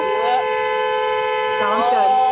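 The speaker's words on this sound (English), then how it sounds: "Honking my horn at you is not illegal." A car horn sounds as steady sustained tones through the clip, with two clearer blasts near the start and again around the middle to end, fairly loud.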